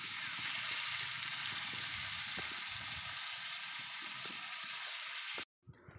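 Squid adobo with soy sauce sizzles steadily in a pan, a loud close frying hiss with bubbling and faint clatter beneath, cutting off abruptly near the end; someone talks softly underneath.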